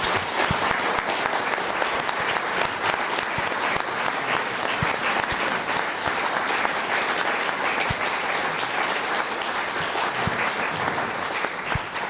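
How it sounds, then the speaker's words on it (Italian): Sustained applause from a large audience at a university screening, dense and steady clapping throughout with no pauses, fairly loud and close. "di fargli un grande applauso."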